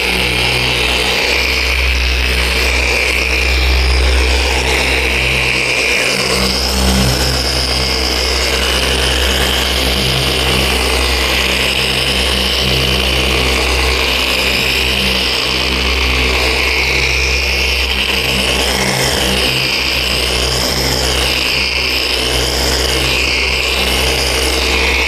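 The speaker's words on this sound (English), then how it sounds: "buffer to apply our paint sealant" A non-spinning buffer applying paint sealant to a new car's painted surfaces, a continuous loud mechanical hum with steady low drone and rubbing texture, running without pause and with no talk.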